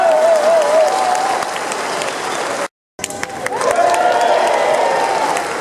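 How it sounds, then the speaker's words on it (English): A crowd at an outdoor independence rally in Cardiff applauds loudly and steadily, with a brief dropout midway before the clapping resumes, and a faint voice or tone rising under the noise. "Could you give him a round of applause"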